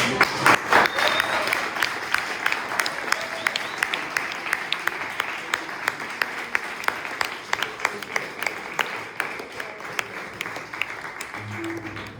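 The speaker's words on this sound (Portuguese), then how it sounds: "E quero pedir uma bela salva de palmas" A crowd applauds steadily for the whole stretch, many hands clapping in a dense, even wash at moderate loudness.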